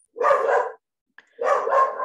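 A nervous pet dog barks at home, two loud close bursts separated by a short pause, with no voices over them.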